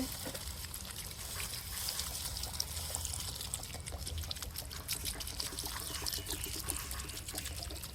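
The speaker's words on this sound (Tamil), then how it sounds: "சிக்கனுக்கு ஒரு 3/4 தண்ணி நல்லா சேர்த்திக்கலாங்க." Water pours in a steady, quiet stream into a pan of cooking chicken, a soft continuous splashing trickle heard close up.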